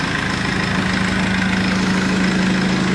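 A Cummins turbo diesel crate engine idles just after its first start with the turbo not hooked up, a loud, steady, close rumble with an even low throb and mechanical clatter.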